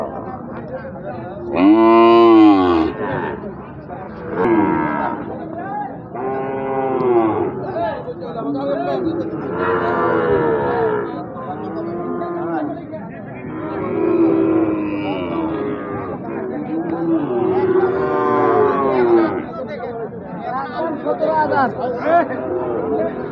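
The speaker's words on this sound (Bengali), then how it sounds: "ষাঁড় বাছুর।" Sahiwal bull calf lowing at a cattle market, several drawn-out moos rising over continuous bargaining chatter and nearby voices.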